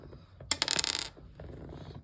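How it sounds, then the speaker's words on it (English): A die is rolled, giving a short burst of quick clattering clicks as it tumbles and settles on a hard surface, with quiet room tone before and after. "So let's do the dice roll for today."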